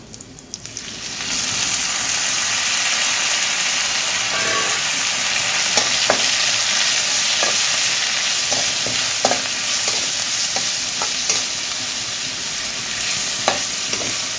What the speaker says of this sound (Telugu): ఉల్లిపాయలు వేగాయి కదా ఇందులో బంగాళదుంప ఒక బంగాళదుంప అండి సన్నగా పీసుల్లాగా కట్ చేసుకున్నాను ఇలాగా ఇది వేసుకుందాము